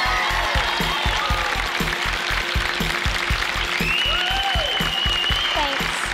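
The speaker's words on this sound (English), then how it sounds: "I could hear my mum and my dad calling my name and cheering and clapping, which was really exciting." Audience clapping and cheering at a junior cooking competition, dense continuous applause under repeated rhythmic thumps and a few rising whoops, fairly loud throughout.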